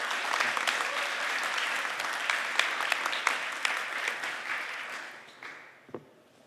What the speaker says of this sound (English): please give a big round of applause for Vitalie Spinu